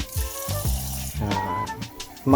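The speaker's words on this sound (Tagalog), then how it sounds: "So, lagyan natin tubig." Water splashes and gurgles as it is poured into a transparent aquarium tank being set up for a customer, a close, uneven pouring sound in bursts with no talking.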